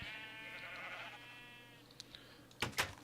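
A sheep in the video game Minecraft bleats once in a drawn-out wavering call, followed by a couple of faint clicks and two short sharp knocks near the end.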